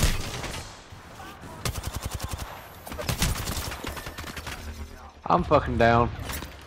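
Video game gunfire crackles in rapid automatic bursts and scattered single shots, some close and sharp, others more distant, with a player speaking over the shooting.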